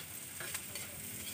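Sliced hotdog being stirred as it fries in a pan, a soft continuous sizzle with light scraping strokes of the utensil, fairly faint and close.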